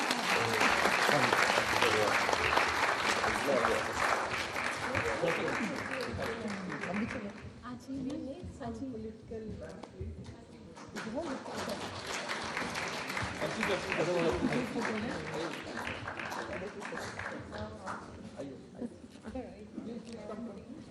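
An audience at an international counselling conference breaks into sustained applause, loud and dense at first, easing briefly, then swelling again, with talk mixed in.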